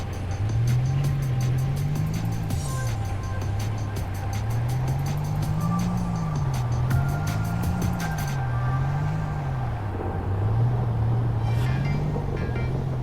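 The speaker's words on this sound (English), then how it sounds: "the little Japanese pickup K trucks, that's what we're driving" A small Japanese kei pickup truck drives steadily in the video game Easy Delivery Co., its engine droning with a wavering pitch that rises and falls, joined by a ticking indicator and soft background music. No one speaks.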